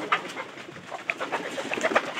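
Pigeons cooing in a loft, soft short coos and fluttering bird calls scattered in quick succession, fairly faint against a quiet room.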